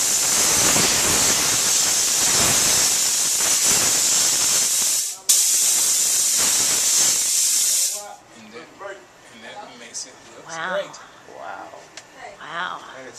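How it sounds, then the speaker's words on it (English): A steamer blasts a loud, continuous hiss while cleaning a silver piece, briefly cutting out and resuming, then stopping as a person speaks afterward. "I just clean this silver piece, and then you bring it to the steamer"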